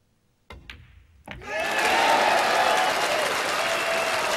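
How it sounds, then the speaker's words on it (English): A crowd at a World Pool Masters match in Kielce breaks into loud, sustained applause and cheering after a few sharp opening claps, the roar holding steady to the end. "The roar, the cheers from the crowd says it all."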